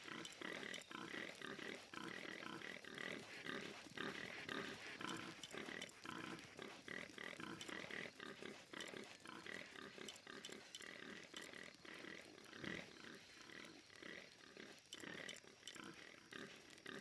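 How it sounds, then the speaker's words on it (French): Pigs grunting and oinking steadily in Shadow of the Tomb Raider, a dense, continuous stream of rough snorts close by with a busy game ambience underneath, carrying on for the whole stretch. "Ils sont pénibles, les cochons derrière."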